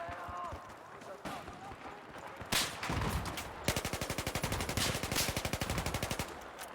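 M4 rifle fire in a video game: after scattered shots, a long, rapid automatic burst of evenly spaced, loud cracks runs for about three seconds, with talk over it.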